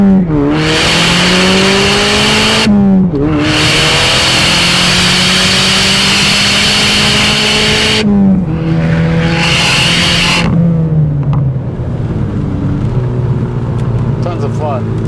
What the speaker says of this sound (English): Now let's do a little pull.